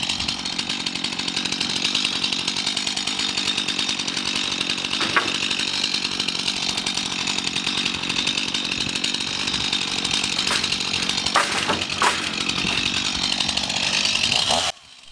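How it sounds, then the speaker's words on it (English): A chainsaw cuts through wood for a shelf project, its engine droning loud and steady for the whole run with brief surges as the chain bites, then cutting off abruptly at the end. "I do my cutting with a chainsaw because I find it handy"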